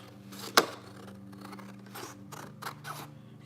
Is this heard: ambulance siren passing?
no